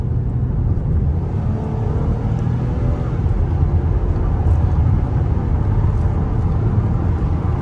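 A 2010 Lincoln MKX accelerates onto a freeway on-ramp, a loud continuous low engine and road rumble from inside the cabin, steady with no talk.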